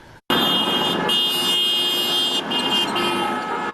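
Vehicles passing a street demonstration sound their car horns, a loud sustained honk that breaks off and resumes several times over a few seconds, with road traffic running underneath.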